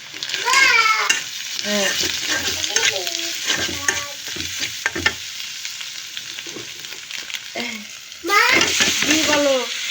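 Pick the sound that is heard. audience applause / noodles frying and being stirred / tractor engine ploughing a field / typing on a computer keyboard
noodles frying and being stirred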